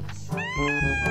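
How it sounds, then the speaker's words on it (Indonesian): An orange cat lets out a series of loud, angry meows and whiny caterwauls close to the microphone, rising and bending in pitch as it refuses to be petted, with no talking. "Jadi pas lihat tangan majikannya mendekat, kucing ini langsung mengeluarkan suara penolakan."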